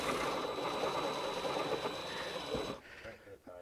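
Power tool grinding steadily through a fiberglass C5 Corvette fender flare, a continuous loud buzzing cut for nearly three seconds before it stops, with a voice talking over it.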